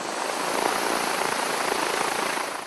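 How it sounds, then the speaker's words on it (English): A steady, loud whirring roar of an 18-horsepower electric motor and propeller on an Electraflyer-C light airplane, running continuously at close range, with a slight rhythmic pulsing. "That's the sound of an 18-horsepower electric motor"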